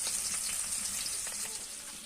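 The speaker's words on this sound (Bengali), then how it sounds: "তো দেখুন, আমি মাছগুলোকে ভেজে নিচ্ছি" Pieces of rohu fish fry in a pan in a village kitchen, making a soft, continuous crackling sizzle at moderate distance. No voices are heard.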